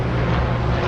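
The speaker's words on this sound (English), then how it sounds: "Excuse the helicopter." Helicopter flying overhead, a steady low rotor and engine rumble holding throughout at fairly loud level, with no voices over it.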